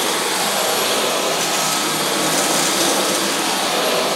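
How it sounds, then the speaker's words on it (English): A Dyson V12 Detect Slim cordless vacuum cleaner runs on its auto/medium power setting, giving a loud, steady, broadband whooshing whine that holds constant throughout, close up with no talk. "So we're going to turn the machine on its auto or medium power setting."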